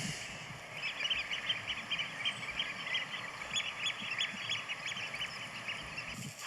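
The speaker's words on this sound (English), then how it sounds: "There's actually a flock of pink-feeted geese flying overhead just as I look now." A flock of pink-footed geese honking and calling repeatedly overhead on the East Lothian coast, a busy chorus of overlapping cries above a faint outdoor hiss.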